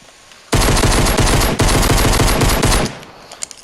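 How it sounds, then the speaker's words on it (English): Rapid pistol fire in the video game Fortnite, a loud dense burst of closely spaced shots lasting over two seconds with a brief break partway through, then a few faint trailing clicks. "As you can see, I'm shooting it much faster than what most people normally do."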